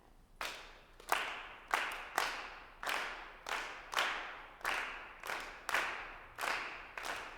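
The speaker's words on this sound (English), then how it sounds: "4 bars of clapping, 2 bars in unison" A rehearsal choir claps in rhythm as an exercise, about a dozen sharp, evenly spaced claps over several bars, fairly near and clear with no talking.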